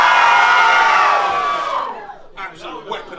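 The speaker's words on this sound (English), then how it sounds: "after 3, I want a cheer" A wrestling show audience lets out a loud, unified cheer on cue that swells and then fades, followed by scattered shouts and whoops from the crowd.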